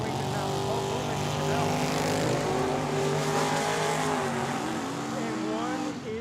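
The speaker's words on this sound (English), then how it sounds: "David Cons in the 67 Corvette, left-hand lane." A 1967 Corvette drag racing at Tucson Dragway, its engine roaring loud and sustained across the whole stretch, with rising and shifting tones under a track announcer's voice.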